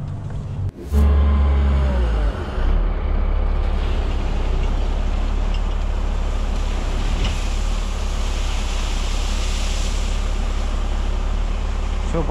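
A heavy, steady mechanical roar fills the scene as a bucket loader works beside a truck being loaded, with a loud low engine drone and a brief clunk near the start.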